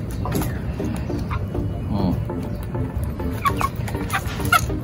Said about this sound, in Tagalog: binibreak in ko na itong mga batang manok